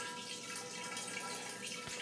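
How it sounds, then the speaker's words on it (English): Water streams steadily through a Vinbrite wine filter to flush it before filtering a Riesling kit, a continuous, even rush with no pauses. "So I'm going to let the water go through"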